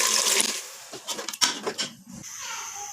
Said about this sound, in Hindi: मैं पानी डाल दूँगी 2 गिलास।